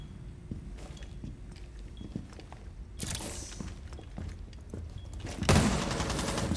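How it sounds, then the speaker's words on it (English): Gunfire in the video game Rainbow Six Siege, rapid metallic shots and clatter with footsteps, growing louder and denser partway through and ending in a burst of heavy automatic fire. "Can Abitur's gun sound so metally?"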